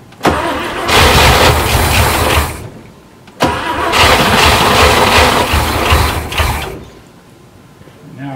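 A 1972 International Scout II engine, unstarted for years, cranks and catches twice in a row, each time roaring rough and loud for a couple of seconds before dying away.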